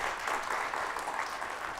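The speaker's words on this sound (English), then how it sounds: "A big round of applause for the efforts which they have put." An audience at a panel discussion on making science-fiction films applauds in a steady, dense burst of clapping throughout, moderately loud and without speech.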